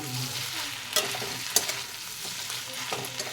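A spoon stirs fish head and potato curry in a hot pan, scraping and clinking in irregular strokes over a continuous close sizzle of frying spices.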